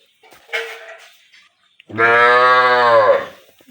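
Sahiwal cattle, a cow with her bull calf: a short, fainter call is followed by one loud, close, drawn-out moo.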